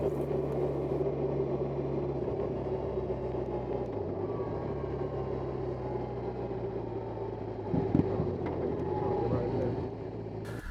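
A BMW R18 Transcontinental motorcycle engine rumbles steadily while riding, a smooth, moderate low drone that swells slightly near the end.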